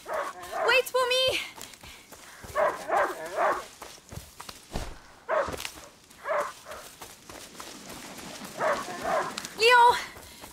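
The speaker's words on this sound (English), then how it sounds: "a hunting dog is not supposed to lose its hunter." A hunting dog in A Plague Tale: Innocence lets out repeated barks and yips in clusters of two or three, loud and close, with footsteps between the bursts.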